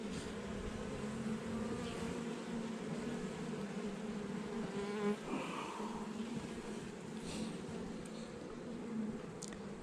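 Honey bees swarm around an open hive during a colony inspection, their dense, continuous buzzing close and steady throughout with no pauses.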